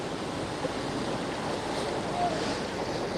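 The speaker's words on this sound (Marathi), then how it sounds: "पुलावरून मोठ्या प्रमाणात हे पाणी वाहत आहे" Floodwater rushes heavily over a bridge during days of flooding around Murum town, a steady broadband roar with no break, close and loud.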